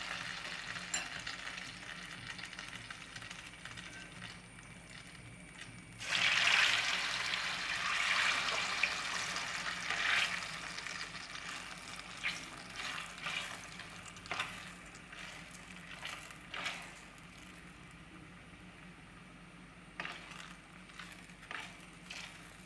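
Bread gulab jamun balls deep-frying in hot oil, a steady sizzle that swells into a louder, bubbling burst partway through, then settles into a quieter crackle with occasional clinks from the pan.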